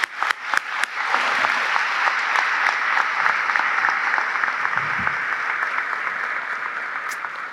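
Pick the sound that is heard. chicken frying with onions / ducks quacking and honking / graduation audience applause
graduation audience applause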